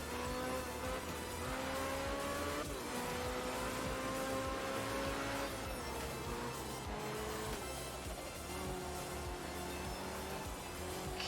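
Mid-engine rally car in Art of Rally, its engine revving up and down through repeated gear changes with tyres scrabbling, a steady loud drive with no talk over it.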